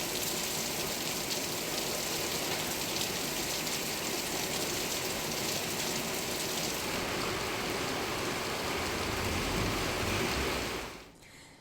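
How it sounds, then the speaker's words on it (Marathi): Heavy pre-monsoon rain pours down in Vasai Virar, a dense, steady hiss of downpour that holds constant for about ten seconds before tapering off at the end. "5 मिनिटांच्या पावसानं वसई विरारला झोडपून काढलंय"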